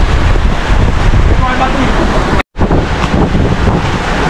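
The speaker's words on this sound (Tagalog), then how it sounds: "Lakas ng hangin, grabe." Loud, blustery wind at the seaside during a typhoon roars against the microphone nonstop, with a constant buffeting rush and a brief dropout midway.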